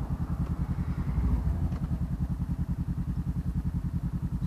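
A motorcycle engine while riding, a steady, close, loud pulsing rumble with even rapid beats throughout and no talk.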